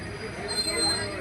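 A train running on rails during ticketless travel gives a steady, close broadband rumble with a thin metallic wheel squeal over it, brief and continuous.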